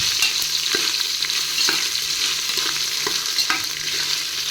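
Onions and green chillies fry in oil for chicken biryani, a bright close sizzle broken by occasional sharp scrapes and clicks of stirring.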